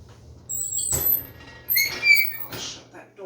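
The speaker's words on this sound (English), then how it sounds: "I'll shut that door now." A door creaks with a few short squeaks as it swings closed on a windy, rainy day, quiet and close, no talking.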